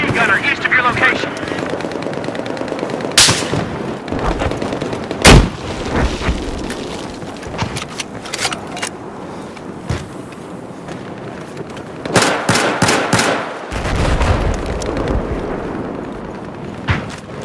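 Battlefield 4 beta gameplay with bursts of machine gun and other gunfire plus sharp explosive booms, loud and irregular, over a steady rumbling background with radio chatter.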